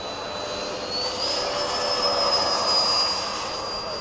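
A 90mm model jet on takeoff at an RC flying field, giving a continuous loud turbine whine with high tonal lines, swelling slightly louder and then holding steady, with no talk.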